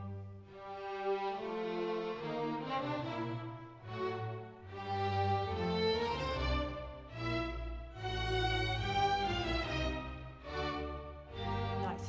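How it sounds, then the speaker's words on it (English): String section bowing arco, sustained legato chords swelling and fading in long phrases, quiet and smooth with no talking. "If it was marked arco, which literally means play with the bow, it would sound like this instead."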